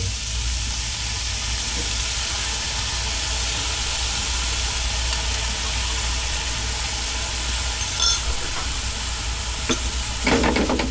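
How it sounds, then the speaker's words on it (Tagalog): Steady loud sizzle of lechon sisig frying as a soy sauce, vinegar and calamansi mixture hits the hot pan, a continuous hiss with a few brief clinks and scrapes near the end. "Meron ako dito, mixture to ng toyo, suka, at saka kalamansi. So, buhusan lang natin."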